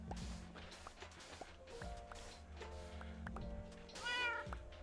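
A tamed cat meows in Minecraft, giving several short meows over background game sounds, with one louder meow near the end and no talk.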